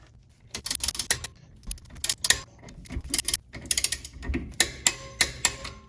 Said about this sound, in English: with your 5mm and torque them all down to 30 foot-pounds